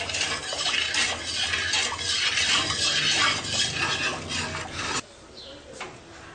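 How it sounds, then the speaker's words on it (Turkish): Steady scraping and swishing of a utensil stirring sugar syrup with lemon and hot water in a pot, continuous for several seconds, then a sudden drop to quieter faint clinks. "Şerbeti karıştırıyoruz."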